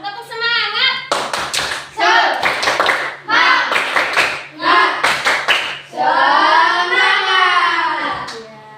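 A primary school class claps a rhythmic 'tepuk semangat' cheer, bursts of sharp hand claps in patterned groups alternating with children chanting together, close and loud.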